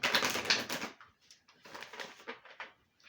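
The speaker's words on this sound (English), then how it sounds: "Get my bridge shuffle on with this deck." Cards riffle in a quick crisp burst as a somewhat stiff tarot deck is bridge shuffled, then patter and settle in softer, uneven flutters.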